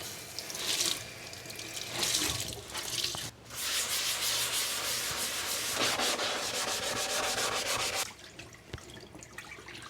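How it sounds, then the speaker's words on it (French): A kitchen sink scrubbed with a cleaning tool, steady rough rubbing strokes with running water, close and fairly loud, pausing briefly around a third of the way in, then continuing and easing off near the end. "Je vais m'attaquer à l'évier et puis après, s'il faut, je frotterai la poêle."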